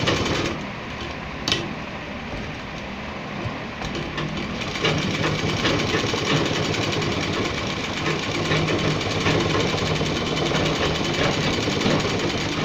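A sewing machine stitches a pocket onto a gents' kurta, a continuous rapid mechanical chatter with a steady rhythm throughout, close and moderately loud.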